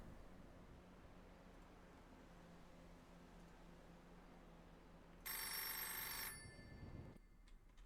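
Telephone ringing inside a roleplay video game, a loud bright electronic ring bursting in for about a second over steady low background hum, then cutting off.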